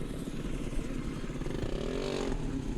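A youth snowmobile's small engine revs at the start line of a Kitty Cat class race, a buzzy, rattling drone that rises in pitch toward the end, heard from a moderate distance.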